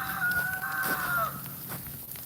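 A rooster crows loudly close by, one long drawn-out call, with hens clucking softly around it outdoors in freezing winter weather.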